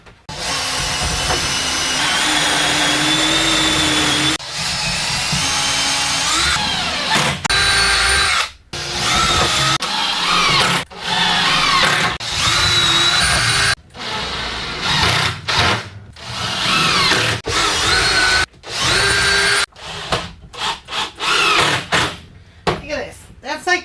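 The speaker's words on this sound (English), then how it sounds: "Now we screw this one in." A power drill drives screws into a wooden project bench in loud, repeated bursts of whirring with short pauses between them, while someone talks over parts of it.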